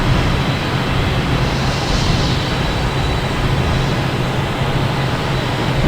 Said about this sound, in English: next coming in is United Airlines from Newark, an A737, Boeing,